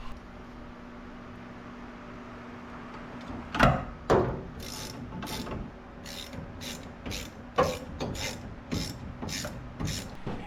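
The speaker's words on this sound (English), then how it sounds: "It's just got to hold the wrench in place while we tighten the bolt." A ratchet wrench tightens a bolt on a hotrod mini truck, giving short bursts of rapid clicking strokes with a few clunks of metal between them, close by and fairly quiet.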